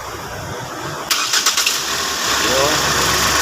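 A Ford Explorer's engine cranks in several quick bursts, catches, and settles into a steady mid-pitched idle. A voice talks over it close by.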